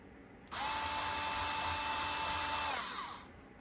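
A power drill whirs steadily at high speed for about two and a half seconds, close and loud, drilling a hole in the center of a CD, then winds down as the bit stops.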